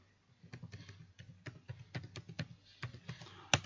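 Typing on a computer keyboard while working in a database on a virtual machine, a quick irregular run of close, light key clicks with one sharper final tap.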